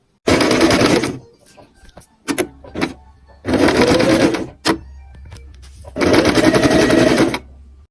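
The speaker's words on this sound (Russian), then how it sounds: "Мы пошиваем, соединяем их." Close, loud sewing machine stitching jacket pocket pieces together in three long steady runs of rapid whirring, separated by short pauses with fabric handling and faint clicks.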